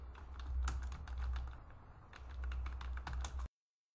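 Computer keyboard keys clatter in steady bursts as network switch commands are typed in, close and fairly quiet, with a short pause midway and a low hum underneath.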